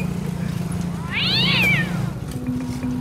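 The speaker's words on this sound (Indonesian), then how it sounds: "Bang Ojak, itu kucing hitam." A black cat lets out one drawn-out, rising and falling meow, loud and close, over a low steady engine hum.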